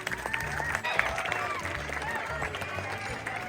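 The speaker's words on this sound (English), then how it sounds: "All of you give a big round of applause." An audience at a legal literacy awareness program gives a round of applause. Steady, moderately distant clapping blends with crowd murmur, and voices talk over it.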